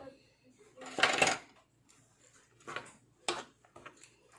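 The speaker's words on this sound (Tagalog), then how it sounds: "Tapos i-mix natin sa cream." Cream being mixed in a bowl for brown sugar milk tea with Oreo cream cheese, giving a few soft scraping and clinking bursts of utensil against bowl, close and fairly quiet, with gaps between strokes.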